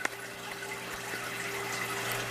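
Water drains steadily from a used canister aquarium filter serving a 125-gallon tank, a continuous close trickling and splashing flow with a brief knock at the start.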